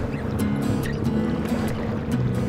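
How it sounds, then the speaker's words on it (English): A recreational motorboat drones steadily nearby on a lake along the Mississippi River, a low rumbling hum with water wash and wind noise, no voices. "we came in contact with some recreational boat traffic"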